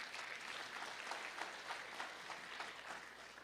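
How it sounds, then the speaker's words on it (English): Audience applause at an Indian American diaspora meet-and-greet in San Jose, a steady, dense wash of clapping from a crowd that holds evenly throughout without pause. "he deserves a big round of applause."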